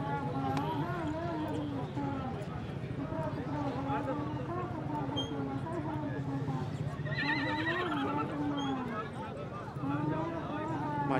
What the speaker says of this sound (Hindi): अभी ये घोड़ी मैं आपको दिखाता हूं कि यह माशाल्लाह बहुत खूबसूरत घोड़ी है